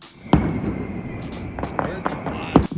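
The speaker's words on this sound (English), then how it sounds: "We were so excited with the fireworks." Fireworks exploding on New Year's Eve, heard as several sharp bangs and thumps at irregular intervals, one strong burst near the start and another later, over a steady crowd murmur with people talking nearby.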